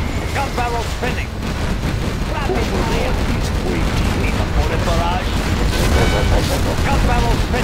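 Gatling cannon fire in the real-time strategy game Command & Conquer Generals Zero Hour, a dense, continuous rattle of rapid shots and booms from a China versus GLA battle, with unit voice lines and battle noise layered over it.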